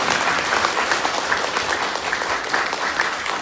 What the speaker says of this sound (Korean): 박수 한번 쳐주시고요.